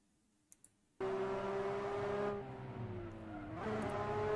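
A racing car in Assetto Corsa, the simulation game, starts suddenly after a near-silent pause with a steady engine drone whose pitch dips and rises as it drives, with faint tyre noise underneath.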